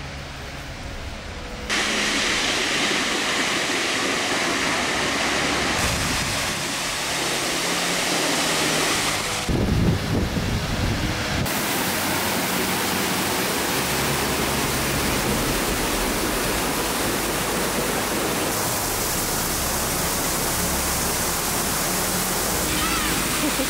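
A waterfall roars close by, a steady, loud rush of falling water that swells and shifts in intensity over the whole stretch.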